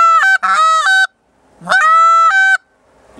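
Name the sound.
goose call device imitating goose honks, varied tone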